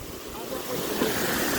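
Water gushing out of a rock face in a mountain setting, a loud, steady rushing roar mixed with wind buffeting, close and continuous with no talk.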